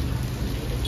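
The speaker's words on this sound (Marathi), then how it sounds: "डेंजरवाला पाऊस सुरू झाला इथे" Heavy rain pours down in a dense, loud, unbroken roar, very close.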